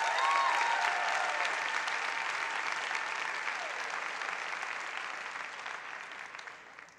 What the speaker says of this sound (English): Please give Gavin another round of applause.